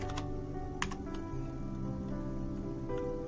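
Someone typing on a computer keyboard while configuring a Cisco router: a few scattered, light key clicks over a faint steady hum, quiet and close.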